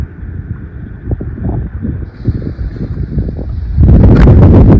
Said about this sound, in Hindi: आज ठंडी ठंडी हवा चल रही है